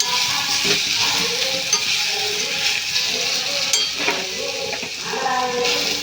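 Capsicum and tomato curry fries in a pan, giving a steady sizzle, and a spoon stirs and scrapes against the metal every second or so, close and clear with no talking.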